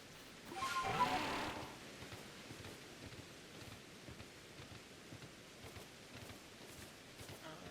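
Steady rain in the Pokémon Legends: Arceus game, a soft, even hiss of falling drops with a brief louder whooshing swell near the start before settling into a faint, constant patter.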